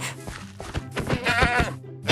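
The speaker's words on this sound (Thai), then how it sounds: "แพะมาทำอะไรตรงนี้เนี่ย" A goat bleats repeatedly in the block-building game Minecraft, a run of wavering, nasal cries close by with short gaps between them, sounding alone without talk.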